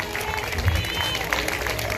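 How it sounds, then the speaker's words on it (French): Applause at a graduation ceremony for an English-language institute, moderately loud clapping that runs throughout, blended with crowd murmur and faint low rumble. "Un gros applaudissement pour Bianca, s'il vous plaît."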